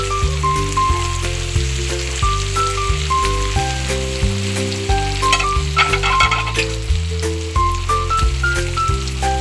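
Sisig sizzles steadily on a hot sizzling pan, a continuous loud crackle running beneath prominent melodic background music throughout.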